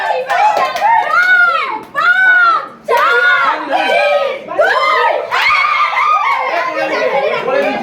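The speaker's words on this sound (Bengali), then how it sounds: "তোরা চিৎকার করছিস।" Children shouting and screaming together indoors, loud overlapping high voices in bursts with brief pauses, mixed with laughter and chatter.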